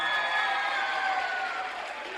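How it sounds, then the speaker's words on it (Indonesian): An audience at the SMP Islam Athirah 1 Makassar Class of 2022 graduation applauds the graduating students, a dense, steady wash of clapping with a few voices mixed in, easing slightly toward the end. "Tepuk tangan untuk semuanya."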